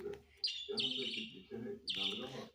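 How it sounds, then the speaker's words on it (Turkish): Bright, high bird chirps come in a few short bursts, close by and fairly clear over a low background murmur. "Kuş sesini buraya koyacağım."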